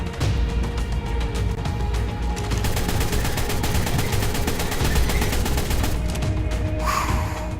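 Rifle fire in the ARK Survival video game crackles in loud, rapid bursts of closely spaced shots that continue almost without a break for several seconds, with no talking.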